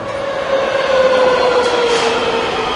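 Trains moving through a large iron-and-glass railway station in Madrid, a steady rumbling rail roar that swells after a moment, with a faint sustained tonal whine riding over it and no talk.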